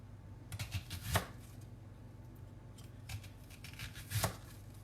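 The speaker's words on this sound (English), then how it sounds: "I'm going to take a second onion here and probably cut a few more pieces of onion" Kitchen knife cutting an onion on a board: two crisp chopping strikes stand out near and clear, with softer scrapes and light cuts between them in a quiet room.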